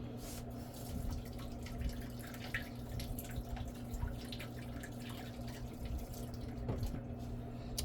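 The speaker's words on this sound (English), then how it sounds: "One sec while I wash these eggs." Tap water runs steadily into a kitchen sink while eggs are washed, a quiet continuous trickle and splash with scattered small knocks and drips, alongside a faint steady background hum.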